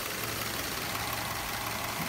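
A 2017 Subaru Legacy engine swapped into a 2011 Forester idles steadily, a continuous low mechanical hum with a faint ticking texture, close and moderately loud, no talk.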